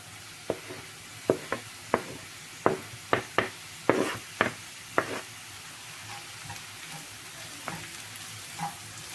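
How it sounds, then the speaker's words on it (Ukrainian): Soft frying sizzle of grated carrot and onion in a pan, with a series of sharp utensil taps and scrapes, mostly in the first half, then a quieter steady sizzle. "До підсмаженої цибулі додаю морку."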